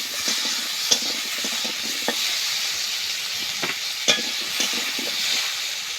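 Taro pieces frying in a pan with salt and turmeric, a constant sizzle marked by irregular spoon scrapes and clinks as they are stirred, close and clear, with no one speaking.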